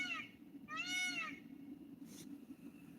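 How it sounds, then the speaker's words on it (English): A peacock near a zoo gives two or three rising, wailing calls that sound close, heard over a low background hum with no speech. "I'm over by the zoo, so that's a peacock."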